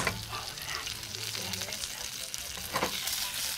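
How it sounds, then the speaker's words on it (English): Chicken wings tossed in a pan of sizzling brown butter and honey make a quiet, continuous frying hiss with soft stirring scrapes and a few louder clatters near the end, with no talking. "So we're gonna toss it in the butter and the honey."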